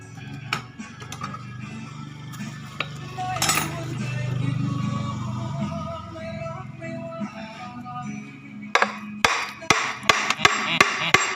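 Hammer blows on the gearbox seal of a Daihatsu three-wheeler: a few scattered knocks, then a quick run of sharp, close metallic strikes near the end, with faint talk and workshop noise underneath.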